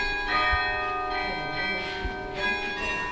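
A cast bronze bell rings at a Villedieu-les-Poêles foundry, its sustained, shimmering harmonic tones lingering steadily with a few gentle strikes, moderately loud and close, while a voice speaks faintly underneath.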